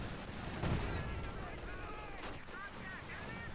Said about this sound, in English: Is that a 50 cal?